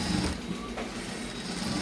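An electric sewing machine runs continuously, stitching dress fabric with a quiet, fast mechanical whir at close range and no talk.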